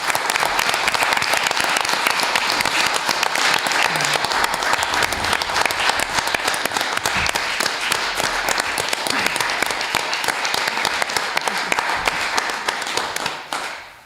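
Sustained, dense applause from a room of people at the Howe city council meeting, many hands clapping evenly for over ten seconds before tapering off at the end.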